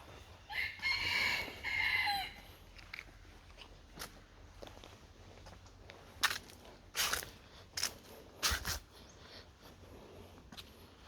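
A rooster crows loudly near the start, then chickens cluck in short, scattered bursts. The flock is about a hundred birds at Wat Tham Khok Ma in Sikhottabong, Laos.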